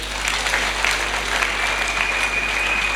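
A church congregation applauds steadily for a few seconds, a dense, even clatter of many hands over a low steady hum in a large room.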